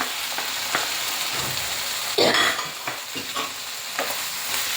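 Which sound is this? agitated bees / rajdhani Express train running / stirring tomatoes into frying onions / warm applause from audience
stirring tomatoes into frying onions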